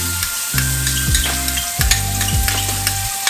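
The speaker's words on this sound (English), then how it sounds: "we're gonna put in our onion. We'll get our onion in." Chopped onion hits a hot curry pan and fries with a loud, close, continuous sizzle, broken by a few stirring scrapes, with no voices.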